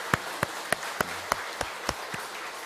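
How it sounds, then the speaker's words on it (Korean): Church congregation members clap for one another after a successful year: a sparse, faint string of evenly spaced single claps, about eight over a few seconds, in a quiet hall. "수고했다고 우리 박수 한번 쳐줍시다"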